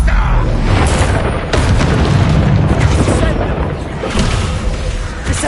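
Bombarda explosion spells cast in Hogwarts Legacy combat on PS5, a loud continuous barrage of booming blasts and rumbling bursts that overlap and fill the whole stretch.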